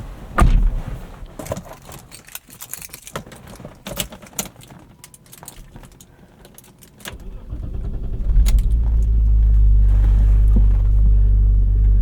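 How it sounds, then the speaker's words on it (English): Keys jingle and clatter, then the engine of a 1991 E34 BMW M5 cranks and catches, settling into a loud, low, slightly uneven rough idle rumble. "It's got a pretty rough idle"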